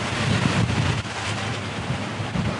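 Strong wind blows across a Leopard 45 cruising catamaran at sea in the North Atlantic, a steady, loud, broadband roar and rumble buffeting the microphone with no let-up.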